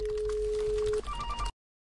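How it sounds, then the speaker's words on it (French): A telephone rings out when a call is placed to a mobile phone, giving a single steady ringback tone for about a second, then a brief shifting tone pattern before the line cuts to silence, moderately loud with no talk. "Je vais essayer de l'appeler sur son portable personnel."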